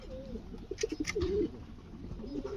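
Mookee pigeons coo softly nearby, low throaty warbling calls over a steady background hum.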